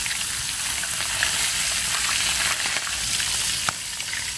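Steady, dense sizzling of food frying in hot oil, close and continuous with faint crackles and a small clink near the end.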